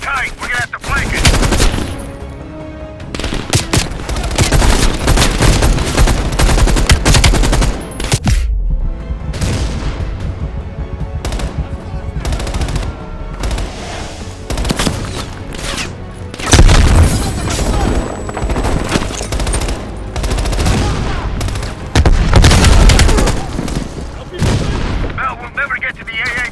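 An entrenched machine gun in Call of Duty: Black Ops Cold War rattles in long, loud bursts amid heavy battlefield gunfire and booming explosions, with brief lulls between volleys and voices talking under the din.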